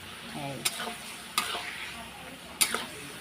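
Paneer masala sautéing in a pan, a soft continuous sizzle broken by three sharp scrapes and clinks of a spoon stirring against the metal, close and fairly quiet.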